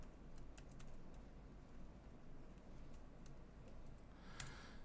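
Faint, soft keystrokes tap away on a Chromebook keyboard while a wireless network password is entered, light irregular clicks over a steady background hiss.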